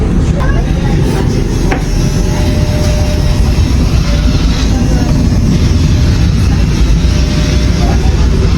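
Interior of a moving train: a loud, constant low rumble and roar fills the whole stretch, with faint rattles and clicks on top and no clear voices.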